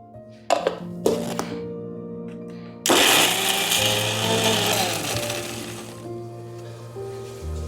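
A kitchen mixer grinder grinds ginger and garlic for a prawn pickle paste: a couple of short pulses, then a loud, sustained whirring grind for several seconds that winds down at the end.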